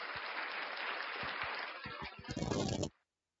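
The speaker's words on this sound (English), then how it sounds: "Round of applause." Applause from a small group on a podcast, a steady burst of clapping that fills about three seconds, growing denser and louder near the end before cutting off abruptly.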